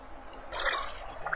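Water pouring in the Fallout Shelter survival game on Android, a short hissing splash of liquid that swells midway and fades, heard alone without speech.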